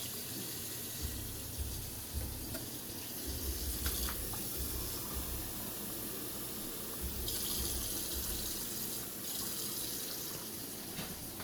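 Water from a tap runs steadily into a cooking pan for rice, a continuous hissing, splashing flow close by with slight changes in pitch as it fills, with no talking.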